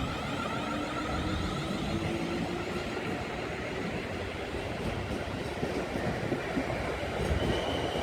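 South Western Railway Class 444 electric train pulling out of Eastleigh station, a loud continuous rumble and whine of traction and wheels on rails, steady throughout with no voices.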